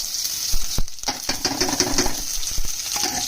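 Onions and chillies sizzle steadily in hot oil, broken by sharp clicks and scrapes of a spoon stirring against the pan.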